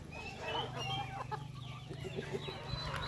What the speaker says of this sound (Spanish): Escuché que una gallina estaba cantando